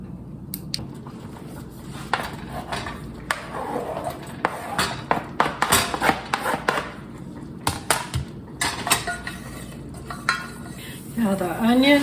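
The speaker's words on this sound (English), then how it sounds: "I'm going to put it in my boiler and add about a fourth pound of hamburger meat" Hamburger meat sizzles and is stirred in a boiler pot with chopped onion and diced garlic, a steady frying hiss broken by scraping utensil strokes and occasional clinks of metal against the pot.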